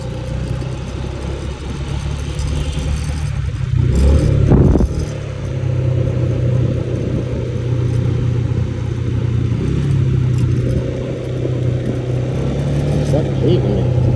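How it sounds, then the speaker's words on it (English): A truck pulls away on a mountain road near Chiang Mai, Thailand, its engine rumbling steadily at close range with a brief louder surge, while wind and a motorbike's hum continue underneath and voices talk. "My truck leaving me."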